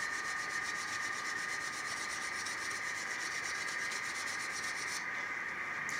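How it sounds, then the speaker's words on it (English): Wooden furniture being denibbed by hand with fine sandpaper or an abrasive pad, a steady, even rubbing hiss that runs the whole time at low level, with no talking. "piece of fine sandpaper or a Scotch-Brite type pad, similar to what you use in the kitchen. You can just denib across"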